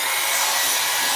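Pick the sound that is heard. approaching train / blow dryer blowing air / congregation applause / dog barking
blow dryer blowing air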